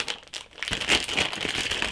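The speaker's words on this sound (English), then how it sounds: "unwrap the joystick thing here" Crinkling and crumpling of plastic packaging as an X-55 Rhino flight joystick is unwrapped, close and moderately loud, with irregular rustles throughout.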